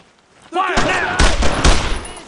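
Gunfire in the World War II video game Brothers in Arms: Road to Hill 30: loud, close volleys of rifle and machine-gun shots crack repeatedly, mixed with a shouting voice near the start.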